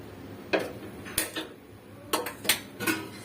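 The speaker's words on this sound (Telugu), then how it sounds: "ప్యాన్ పెట్టుకుందాం." A pan goes onto the stove with several sharp metallic clanks and knocks spaced irregularly across a few seconds, close up against a quiet kitchen background.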